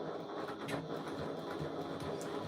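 A Singer Featherweight sewing machine runs steadily through a straight seam, its needle mechanism producing a close, continuous mechanical whir with rapid ticking, no voices over it.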